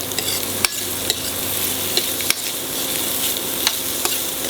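Onions and ginger fry in a pan with a steady, close hiss, broken by a few sharp stirring clicks against the metal.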